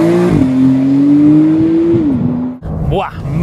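A 2019 Porsche 911 Carrera 4S of the 992 generation pulls away with a loud, rising engine note through about two gear changes, heard close from inside the car, ending in a brief lull and a short revving sweep.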